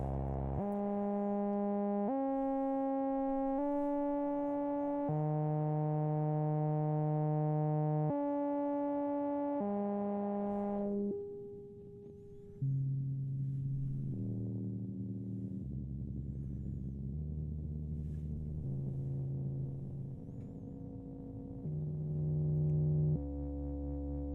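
A Moog Mother-32 synthesizer plays an ambient drone patch set to random steps, sounding a run of sustained, buzzy tones that shift pitch every second or two. It drops to a lower, softer register midway, then swells again, with no talking.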